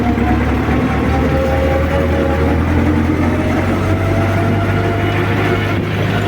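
A heavy tractor pulling a seeder drones steadily at close range in a field, a constant low rumble with faint mechanical rattling and no talk.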